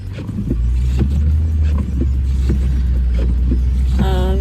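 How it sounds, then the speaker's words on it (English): A car makes an odd, steady low rumble with faint periodic knocks, loud and close, then a brief rising whine near the end; no talking. "my car's making a weird sound"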